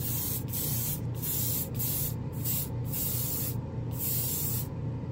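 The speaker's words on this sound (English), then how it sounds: "It actually looks like it's spraying on this quite fine." BEHR spray paint hisses from a can onto an Airfix plastic model kit in loud, close, steady bursts broken by several short pauses; no speech.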